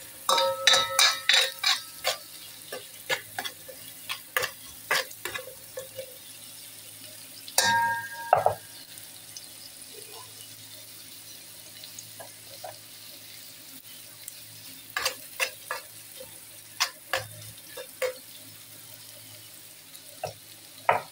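Chili peppers being stir-fried in a pan while cooking a fish dish, with soft sizzling and frequent clinking, scraping utensil taps against the pan in irregular bursts, fairly quiet overall.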